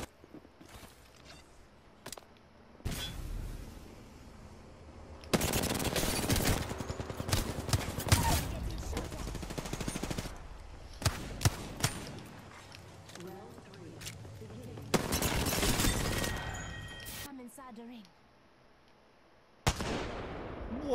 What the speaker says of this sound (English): Wow, dude, these shots are barely missing.